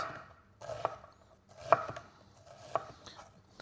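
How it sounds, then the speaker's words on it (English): A knife dices onion finely on a cutting board in a few distinct, close chops with soft scraping between them, quiet and without talk. "going up and down with our knife, and we're getting our fine diced onions"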